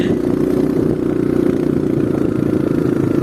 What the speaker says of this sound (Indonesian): Ada yang main Vespa guys.